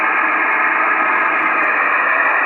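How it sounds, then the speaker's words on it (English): CB radio static from a Magnum-type base set with no station coming through, a loud, steady band-limited hiss that holds constant from start to finish with no voices. "Maybe you can just tell from the static level."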